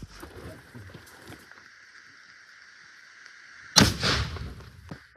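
A grenade goes off during military combat training. A single sudden, heavy blast rumbles briefly and is heard against a steady mechanical drone and faint distant noise.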